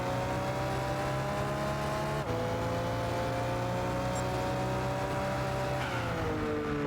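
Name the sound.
car engine in the video game Gran Turismo 6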